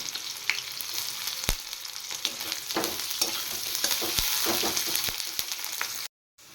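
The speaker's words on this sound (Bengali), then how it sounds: "এবার ভেজে নেব কিছু রসুন আর তার সাথে একটা গোটা পেঁয়াজ কুচিয়ে নিয়েছি ভেজে নেব" Garlic and a whole chopped onion frying in a pan, a steady dense sizzle with scattered stirring scrapes and clicks, close and fairly loud, ending abruptly in silence.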